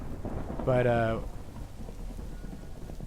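Rain falls steadily over a Minecraft TerraFirmaCraft landscape during a storm, a soft continuous wash with low rumbles, while someone speaks briefly over it.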